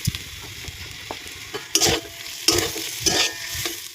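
Egg filling with cumin, coriander and garam masala frying in a pan on a clay stove, a low sizzle broken by several loud scraping stirs in quick succession, close up.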